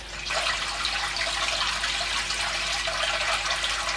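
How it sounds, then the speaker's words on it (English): Water pumped into a tank, rushing and splashing in a steady, loud, continuous flow that starts almost at once and holds without a break. "And here comes the water,"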